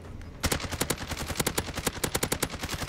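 Shotgun firing through a wall in Warzone: a rapid, loud, close string of around twenty sharp reports in under three seconds, evenly spaced with a ringing tail.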